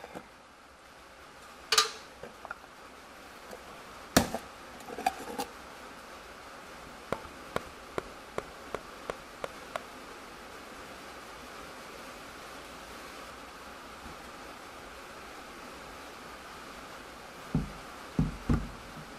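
Hydraulic fluid poured by the gallon into an antique tractor, six gallons in all, makes a steady soft trickling wash, with a few sharp knocks and clunks near the start and end and no talking.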